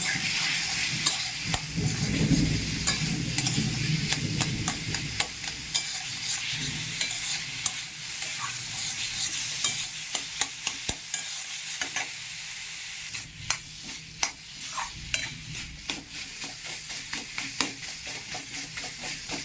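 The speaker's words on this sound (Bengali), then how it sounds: "এবার ভাজা জিরের গুঁড়ো দিয়ে এবার ভালো করে মিশিয়ে নেব" Fig curry sizzles steadily in a pan as roasted cumin powder is stirred through it, with a spatula scraping and tapping in frequent sharp strokes over the constant frying hiss.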